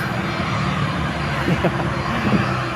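An airplane near an airport runway gives a steady engine roar in the background, with faint voices mixed in.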